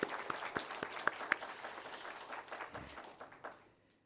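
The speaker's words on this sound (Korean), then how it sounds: "박수 한번 하시죠" A church congregation at a New Year's Sunday worship service applauds their pastor with scattered, distinct claps that thin out and fade into near silence by the end.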